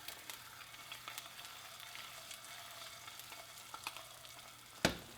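An egg frying in a HexClad pan, a quiet steady sizzle with light scraping and stirring touches, then one sharp clack near the end, heard up close with no talking.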